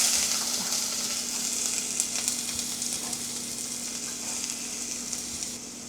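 Onions, garlic and chilies fry in hot oil for a Telugu drumstick curry in a home kitchen. A steady, close hiss and sizzle continues throughout with occasional light crackles, and no voices are heard.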